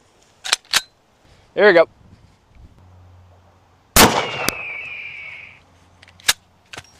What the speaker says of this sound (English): We have our Desert Eagle here, shooting around a 50 AE.